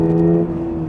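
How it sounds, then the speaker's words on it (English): A 2022 Subaru BRZ engine revs with a steady, droning harmonic note that holds fairly loud for a second and eases slightly, heard from inside the cabin with no talking. "it's actually quite a fun sounding engine, and it's a lot more eager now"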